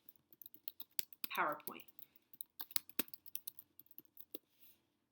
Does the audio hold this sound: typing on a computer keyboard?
yes